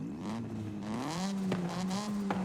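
A Mazda RX-7 engine in Forza Horizon 5 revving steadily, its pitch climbing and holding at a high whine, with a couple of sharp clicks as gears shift.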